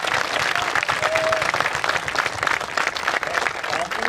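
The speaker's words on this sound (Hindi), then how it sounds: "सबके लिए तालियां हो जाएगा।" Sustained applause from a crowd at an outdoor cricket tournament prize function, steady dense clapping filling the whole moment without a break.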